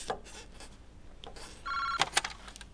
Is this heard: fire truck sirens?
no